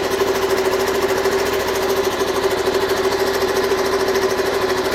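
A Suzuki DR125 motorcycle engine idles steadily nearby, a continuous buzzing putter with an even mechanical rhythm and no change in pace.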